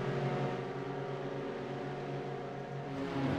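Several Red Bull GRC rallycross race cars idle and build revs together on the grid at Daytona before the start, a steady layered engine drone with stacked harmonic tones holding at even loudness, rising slightly at the end.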